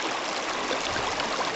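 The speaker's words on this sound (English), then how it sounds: "the idea is the water flows over the riffles" A stream pours over the metal riffles of a gold-panning sluice box set in the current at Mineral Bar, a dense, steady rush of flowing water up close with no voices.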